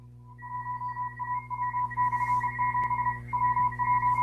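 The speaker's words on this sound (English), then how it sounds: "with the Morse code is W1AW, which is the ARRL station" Morse code from W1AW, the ARRL station, received over radio as a steady beeping tone keyed on and off in quick dots and dashes, sitting above a constant low hum and fairly close and clear.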